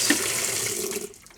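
Water runs steadily into an open-lid Kenmore washing machine, a close, even rushing stream that fades out near the end.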